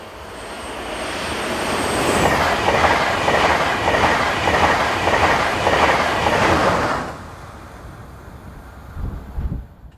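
A Railjet passenger train from München to Budapest, hauled by locomotive 1116208, runs east past a country station at Level. Its loud, steady rumble fills the first seven seconds, then drops away sharply, leaving quiet ambience with a brief low thump at the end.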